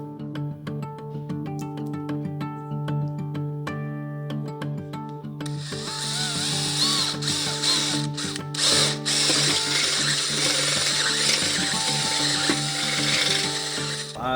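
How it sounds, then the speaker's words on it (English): A drill with a step bit bores a drain hole into an aircraft wing fuel tank during a kit build, grinding steadily and close for several seconds after a tonal hum, with brief catches as the bit bites deeper. "I'm just going to take and use this to drill, and I'll try to penetrate all the way down to that last 5/8 inch"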